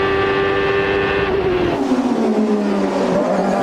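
Champ Car race cars on the Long Beach Grand Prix street circuit restarting, engines loud and close with a steady high whine that drops in pitch as they pass, plus a faint tire squeal; no voices.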